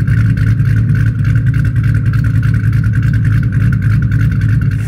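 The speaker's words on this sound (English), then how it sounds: "These gave the car a pretty dope lope." A loud, close 4.6 V8 engine with Detroit Rocker camshafts idling with a choppy, uneven lope, its rhythmic pulsing continuous throughout.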